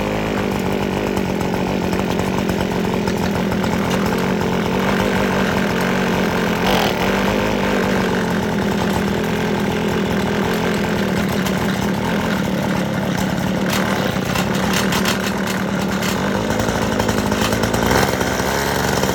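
An old abandoned two-stroke weed eater engine runs steadily and loudly throughout, its buzzing drone continuous with slight wavering in pitch and no talking over it.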